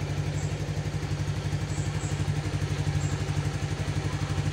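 A Suzuki Nex II motorcycle engine runs with a steady, low, pulsing hum and rattle, fairly quiet and even throughout rather than sharply revving, with no talking.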